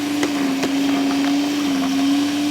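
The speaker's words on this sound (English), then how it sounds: "I've just started to hear the motor start to labour a bit" Hyundai HYCH2400E electric garden vacuum shredder motor labouring as it chokes on soft pine needles, a loud steady whining drone with a faintly wavering pitch and a few sharp clicks.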